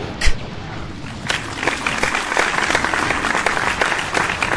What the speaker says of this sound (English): Cue the audience applause.